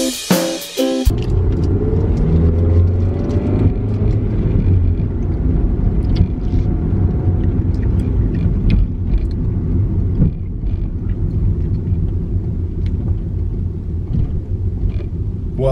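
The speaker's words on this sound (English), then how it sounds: "There's a lot of traffic at this spot." Road traffic rumbling steadily and loudly for the whole stretch, a dense low roar of passing vehicles with a brief higher burst at the very start.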